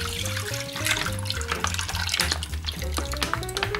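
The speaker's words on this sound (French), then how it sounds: "on va mettre le lait dans notre faitout" Milk is poured into a cooking pot for homemade mozzarella, a continuous close gurgling stream with rising pitch as the pot fills, no talk.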